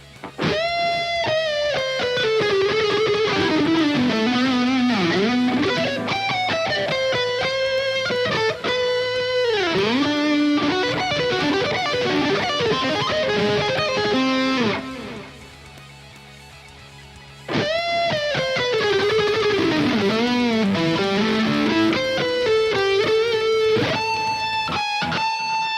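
A Harley Benton electric guitar on its neck pickup plays a continuous melodic line with a warm, rounded tone, pausing briefly midway before resuming, with no voices present.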